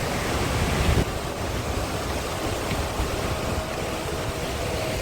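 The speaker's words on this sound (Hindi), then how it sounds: "ये यहाँ पे कोई झरना या नदी निकल रही है।" A waterfall or river along a bamboo trek near Mawryngkhang, Meghalaya, makes a steady, loud broadband rush of flowing water, continuous and unbroken, with no talk.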